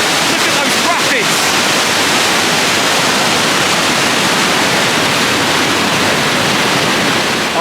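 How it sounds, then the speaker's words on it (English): River rapids roar through the Trollhättan spillway, a dense, continuous broadband rush of churning water, loud and close, steady throughout. "And look at that water. Look at those rapids."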